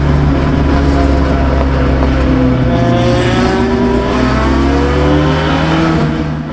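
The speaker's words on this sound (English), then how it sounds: "I get by him, but the NASCAR Oldsmobile Cutlass powers ahead into Big Bend" A Lotus Cortina and a NASCAR Oldsmobile Cutlass accelerate hard at the race start at Lime Rock Park, producing a loud, close, continuous engine roar with rising and shifting pitch as the cars pull away together.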